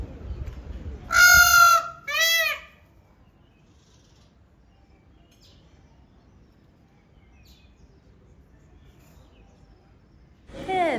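Chickens and a rooster crow loudly and close by in two short bursts near the start, followed by a long quiet stretch with faint background, then another call begins at the very end.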